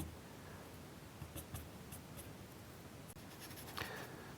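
A charcoal pencil softly blends and feathers the edges of a still-life drawing on paper, giving a faint, continuous scratchy rubbing with a few light strokes standing out.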